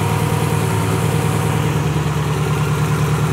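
Built Subaru STi engine with a big turbo idling smoothly up close, a loud, steady low rumble that holds even throughout without revs or pauses.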